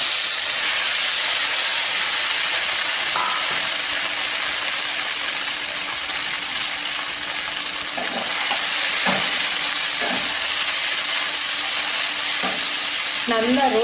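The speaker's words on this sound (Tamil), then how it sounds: "ஒரு இட்லியை நல்லா ரோஸ்ட் பண்ணிக்குவோம்." Idli pieces roast in sesame oil in a pan, giving a loud, steady sizzle and hiss that runs throughout, with occasional soft stirring clinks and scrapes and no talking.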